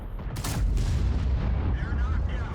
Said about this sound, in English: Let's see if we can shoot some of these tanks.